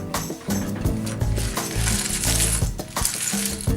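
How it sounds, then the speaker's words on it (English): Small LEGO parts slide and clatter onto a sheet of paper in a close, busy stream of plastic clicks and rattles, rising and falling in bursts. "slide the parts onto the paper."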